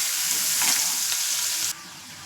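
Finely chopped onion sizzles steadily in hot oil in a pan while cooking chicken liver masala. The hiss stays close and even, then drops suddenly to a quieter level near the end.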